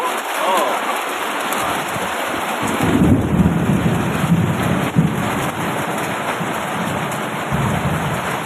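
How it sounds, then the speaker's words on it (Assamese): Heavy rain pours at Chokola waterfall in Assam, a loud, dense hiss close at hand, with thunder rumbling low beneath it through the middle of the stretch. "এয়া বৰষুণ আহিল"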